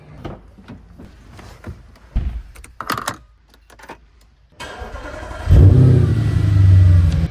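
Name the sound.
Audi S5 engine starting and revving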